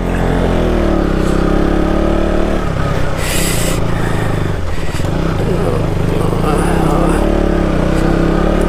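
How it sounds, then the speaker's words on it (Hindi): Motorcycle climbing a hill road at Pareshnath, its engine loud and close with a steady laboring drone and shifting revs throughout, a voice talking over it. "पहाड़ के ऊपर फर्स्ट टाइम बाइक चला रहा है"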